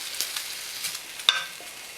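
Stir fry sizzling in a very hot pan, a faint steady hiss with a few sharp crackling pops scattered through it, no voices.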